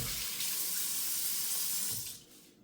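Tap water runs steadily into a sink while thin-cut pork chops are rinsed under it. The flow holds at a close, even rush for about two seconds, then tapers off as the water is shut off, with no talking.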